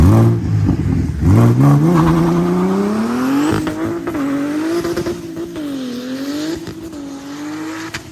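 A Dodge Hellcat and an Audi RS5 race on a street run in Mexico, engines roaring loud and close as they rev and climb through gears with a brief tire squeal.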